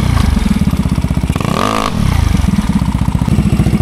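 A Yamaha Mio Sporty scooter with a restricted exhaust pipe idles in loud, close, rapid pulses while being tuned, then briefly revs up and drops back to a choppy idle.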